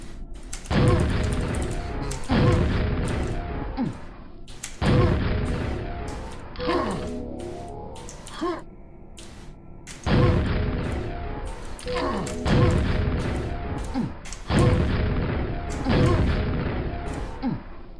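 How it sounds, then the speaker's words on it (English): Repeated booming explosions from rocket jumps in a first-person shooter, about six heavy blasts in an uneven rhythm, each followed by a short rumbling decay. "Maybe a rocket jump is required."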